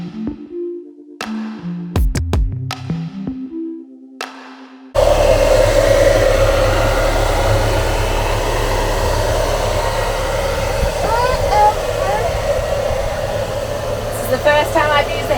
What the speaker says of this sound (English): This is the first time I've used a hairdryer.